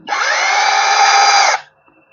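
A power drill with hammer action bores into steel in one loud, steady, high-pitched whine of about a second and a half, close up, then spins down and stops.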